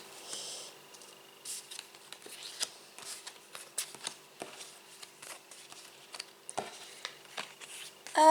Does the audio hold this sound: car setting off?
no